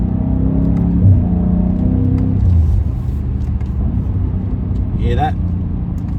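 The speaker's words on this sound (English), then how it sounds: "when you downshift, you get the throttle blip. Basically, you know, match the revving" A 2020 BMW M8 Gran Coupe, a 600 hp car, blips its throttle on a downshift. A deep engine rumble swells and falls in a quick rev-match over a steady cabin drone.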